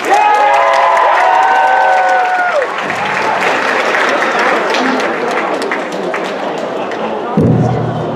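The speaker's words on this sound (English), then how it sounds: "please give him a big round of applause" An audience applauding a performer on stage at the Mr. Grandview 2021 pageant, loud sustained clapping and crowd noise with cheers, a voice talking over it at the start before the applause continues near and full.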